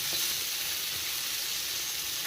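Food sizzles in oil inside a covered pan, a steady, close, broadband hiss and crackle running unbroken throughout with no talking.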